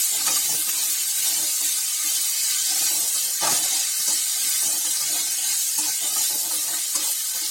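Green beans sautéing in a pan for a beans masala give a steady, fairly loud frying hiss with faint scraping from stirring throughout, and no voices.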